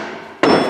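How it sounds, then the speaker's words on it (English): A metal pin is yanked free from a vise mount on a service truck, giving one sudden loud metallic clank that rings on briefly, close and alone. "I'll pull the pin out in here"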